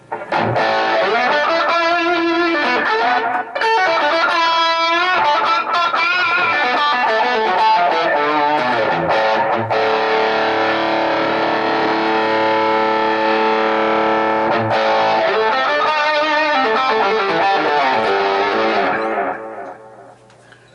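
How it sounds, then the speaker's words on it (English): Electric guitar played through a Wampler tape echo pedal into an Egnater Tweaker amp with a Mesa Cab Clone, sounding loud, distorted and sustained with dark, soupy echo tails, ringing alone for about twenty seconds before fading out. "we can go to the Wampler tape echo and add something that's a little more"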